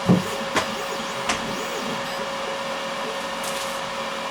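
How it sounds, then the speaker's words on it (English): A steady electrical hum of a small UV resin curing oven running, with a few soft clicks and knocks near the start, no voices. "I need to put him inside that curing oven"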